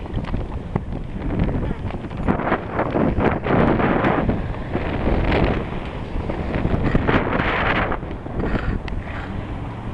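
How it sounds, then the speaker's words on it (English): Strong wind buffets the microphone on a lakeshore boulevard in Toronto on a February afternoon, a loud continuous roar with gusty surges throughout, heard alone. "Pretty windy down here today."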